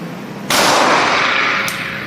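A single loud, close gunshot from a CZ P10C 9mm pistol fired right-handed at a range, a sharp crack followed by a ringing decay.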